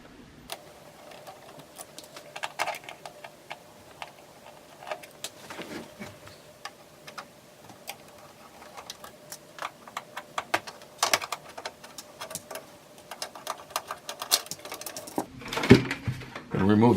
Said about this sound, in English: So we're gonna take off the screws here.